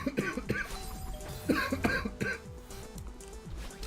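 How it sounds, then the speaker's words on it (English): A few short, harsh coughs, one after another, close to the mic, with music from the video game Celeste playing underneath. "We cough a little bit."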